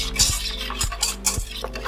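Beaten eggs and brown sugar are mixed in a large mixing bowl, a utensil scraping and tapping against the bowl in quick rhythmic strokes, close and clear with no talking.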